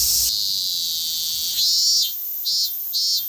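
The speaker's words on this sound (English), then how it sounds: "Cicada in action." A loud, continuous high-pitched cicada drone buzzes close up in Wakasu, Japan, in August, pulsing in brief louder swells toward the end.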